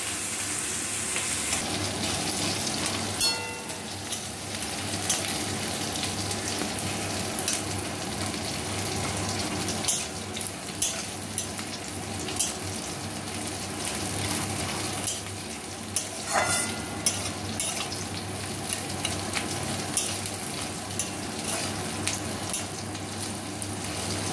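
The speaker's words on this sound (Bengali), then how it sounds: "এখন পেঁয়াজটা একটু হালকা ভাজা ভাজা হবে" Sliced onions fry in hot oil in a kadai for potol ghonto, a soft continuous sizzle broken by occasional scraping and clinking strokes of a spatula stirring the pan, with no talking.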